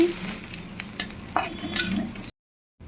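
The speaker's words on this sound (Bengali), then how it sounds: "দিয়ে নেড়ে চেড়ে নিচ্ছি" Chilli and onion sizzle in a frying pan while being stirred, with close scraping strokes over a steady crackle that cuts off abruptly near the end.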